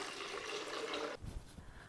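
Drinking water, about 800 millilitres, gushes steadily into a blender for lemonade, then stops abruptly, followed by a few soft knocks and splashes.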